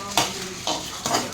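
Half a kilo of mutton fries in a pan with a steady sizzle, while three scraping stirs of a utensil sound clearly and close over it.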